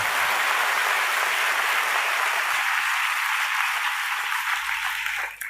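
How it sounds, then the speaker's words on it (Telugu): An audience at a Telugu Christian sermon bursts into sustained applause, a dense, steady wash of clapping that stays loud for about five seconds before tapering off slightly at the end. "కొట్టవయా చప్పట్లో"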